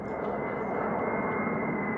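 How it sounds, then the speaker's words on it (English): A plane carrying the body of President George H.W. Bush flies past, a steady broad engine roar holding level throughout with no talk. "when the plane that carried President George H.W. Bush's body from Washington to Houston flew by"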